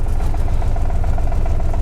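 TU-8 narrow-gauge diesel locomotive, a simple tractor-like engine on bogies, running at a steady throbbing idle, loud and close with a continuous low rumble and no talking.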